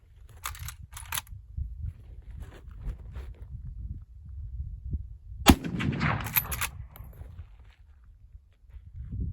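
A single sharp black powder .30-30 rifle shot, 35 grains of 3F Swiss behind a 165-grain lead flat point, booms over a low, rumbling background, with a few faint clicks and handling noises before it.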